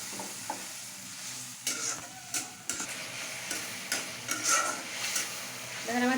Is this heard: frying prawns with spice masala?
yes